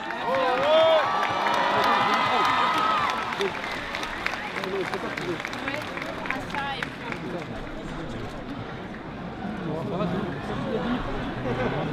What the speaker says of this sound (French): Donc, un grand applaudissement pour vous.